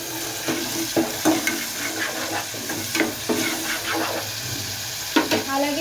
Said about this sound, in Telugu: అల్లం వెల్లుల్లి పేస్ట్ చేస్తారు అందులో ఒకసారి కలుపుకుందాం